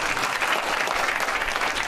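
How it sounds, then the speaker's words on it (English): Audience applause at a televised leaders' debate: sustained clapping from a crowd fills the whole stretch at a steady, dense level, with no voices standing out above it. "got himself another round of applause"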